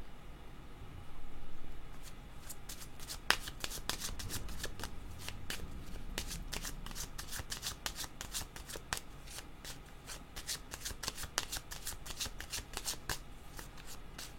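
A deck of tarot cards is shuffled up close, producing rapid crisp riffling bursts of papery clicks that repeat throughout, with no talking.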